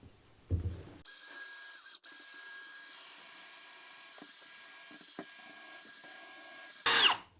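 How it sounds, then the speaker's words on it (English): A drill boring holes into old-growth wood during a laundry room remodel, a steady mechanical whir running for about six seconds between brief louder bursts at the start and end. "let me get drilling holes, stubbing in pipes and stuff"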